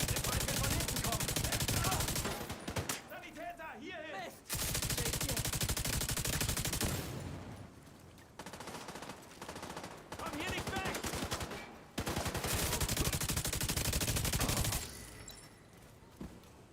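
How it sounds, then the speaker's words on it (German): Long blasts of rapid automatic gunfire in The Division 2, three loud sustained bursts separated by quieter gaps, with someone talking over the action in between. "jetzt muss ich da schnell mal schießen, dann kann ich lesen"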